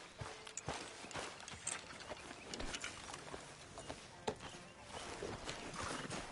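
Horse hooves clip-clop in Red Dead Redemption 2, a brisk irregular run of footfalls on open ground continuing throughout, moderately close against faint ambient game sound.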